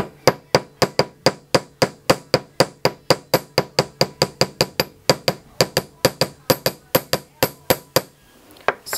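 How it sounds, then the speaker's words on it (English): A chasing hammer strikes a metal bench block, flattening the end of a piece of ring wire, in a steady, rapid series of sharp ringing taps, about four per second, close and clear. "I'm going to take my bench block and my chasing hammer, and I'm going to hammer down the end."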